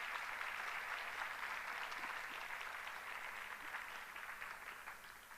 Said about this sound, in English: A well-deserved round of applause for Shonita.